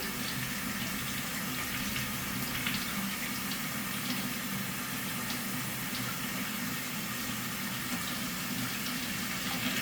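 Water running steadily from a laundry sink tap into the basin, a constant gentle rushing splash heard close and alone, with no talking.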